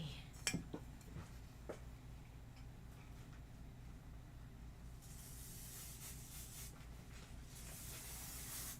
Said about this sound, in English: Let me spray my background fabric and my batting.